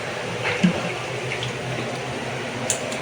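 Tap water runs steadily into a kitchen sink while fresh shrimp are rinsed by hand, making a soft continuous splashing wash with a couple of brief clinks and knocks, and no voices.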